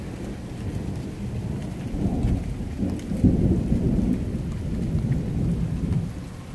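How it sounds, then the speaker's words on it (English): A morning thunderstorm: rain falls steadily on a yard while low thunder rumbles and rolls through, swelling louder midway before easing off slightly. "This is a wonderful morning storm. Rain."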